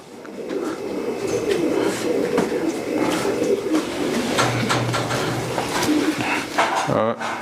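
Pigeons coo in low, throaty bursts amid a busy, noisy background with people talking nearby.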